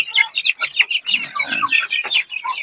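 Chickens on a poultry farm cluck and chatter busily, many overlapping short calls from several birds close by, a dense, lively flock sound with no speech over it.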